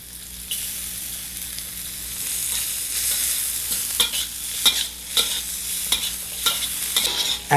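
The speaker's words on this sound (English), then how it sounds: "Let's stir fry our little carrots. Let's add our ginger." Carrots and ginger stir-fried for an Asian-style dinner: a constant oily sizzle broken by repeated sharp scrapes and tosses of a utensil against the pan, growing busier toward the end.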